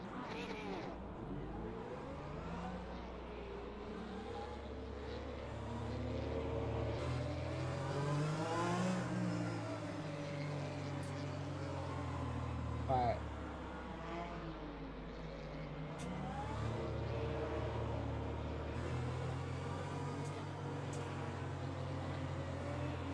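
Race car engines idling and revving on the formation lap in the Le Mans Ultimate racing game, a steady mid-pitched drone with rising and falling revs, heard under someone talking throughout.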